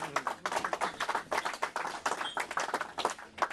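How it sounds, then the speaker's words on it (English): An audience gives a round of applause, dense clapping from many hands filling the whole stretch at steady loudness, with no voices over it. "Round of applause would certainly be appreciated"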